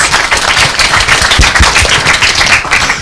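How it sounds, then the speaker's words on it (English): Audience applause at a university launch event, a round of sharp, fairly sparse claps from a nearby crowd, loud and uneven, lasting a few seconds. "Give a round of applause."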